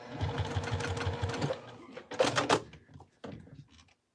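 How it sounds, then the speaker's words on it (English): A Juki 2010Q sewing machine stitches through several layers of vinyl in a fast, even run of needle strokes, then stops, followed by a few handling clunks and clicks. "my machine started skipping stitches"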